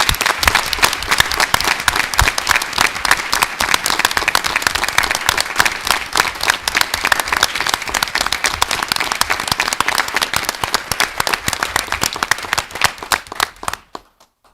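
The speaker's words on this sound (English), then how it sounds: "If you could give them a big round of applause." Sustained applause from an audience at a school board of education meeting, dense steady clapping filling the room for about fourteen seconds before cutting off abruptly.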